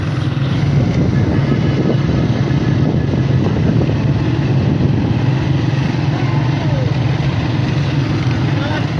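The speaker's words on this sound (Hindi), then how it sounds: "आज तो यहाँ मोटरसाइकिलों का जम्मे गफीर है।" A dense mass of motorcycle engines at a motorcycle rally, rumbling and idling together continuously, close and loud, with crowd noise mixed in.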